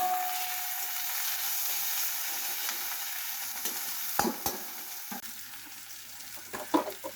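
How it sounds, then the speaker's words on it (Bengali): Duck meat frying with ginger and garlic paste in a pan, a steady close sizzle with a few stirring clatters and scrapes toward the end. "এখন এগুলিকে একটু ভেজে নেব।"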